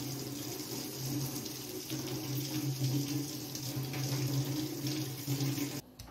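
Prickly pears being rinsed under a running kitchen tap, a steady splashing water stream into a sink that continues for about six seconds before cutting off abruptly near the end.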